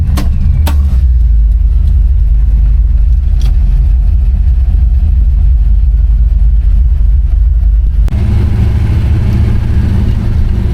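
Chevrolet Impala being driven, its engine a loud steady low drone heard from inside the car, with a few sharp clicks early on and a shift in tone partway through.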